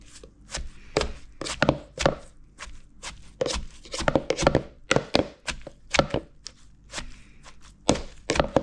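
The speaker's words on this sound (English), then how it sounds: "don't pound it very hard. Just try to mix all the ingredient together like this right here" Rhythmic pestle pounding in a mortar while green papaya salad is mixed, with shredded green papaya among the ingredients; steady, fairly close dull thuds with crunchy edges, irregular tempo, and no talking.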